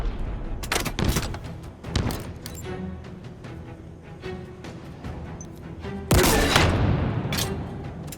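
Gunfire in Halo Infinite: a series of sharp rifle shots spaced a second or so apart, followed by a heavy booming blast that rings out, with a steady game ambience underneath.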